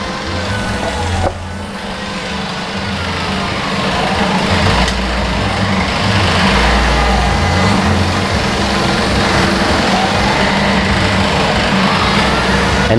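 Computer-controlled CNC machine running in a workshop, a loud steady high-pitched motor whine with a low rumbling drone that grows heavier partway through, with no talk.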